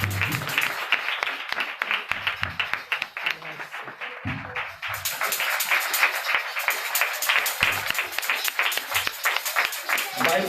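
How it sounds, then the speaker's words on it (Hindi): An audience at a Christian wedding blessing breaks into sustained applause, many hands clapping loudly and steadily while someone speaks over it, with a short lull midway before the clapping swells again. "जोरदार तालियां बजाएं"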